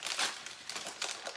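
Baking paper crinkles and rustles in quick, dry bursts as it is handled and trimmed for a pan of flourless brownies, close up and moderately loud with no talking.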